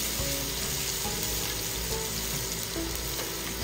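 Minced garlic, about six cloves, sizzles and fries steadily in a hot pan while being browned for chicken Bicol Express, a dense continuous crackle with no voices.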